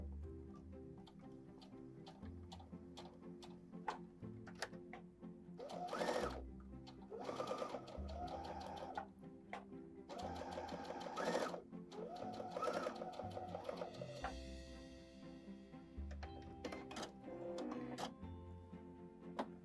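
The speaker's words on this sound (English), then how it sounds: "That way you're going to be stitching exactly a 1/4 inch on both sides." A sewing machine stitches quilt blocks in several bursts of rapid mechanical whirring and ticking, separated by brief pauses, close and clear with no speech.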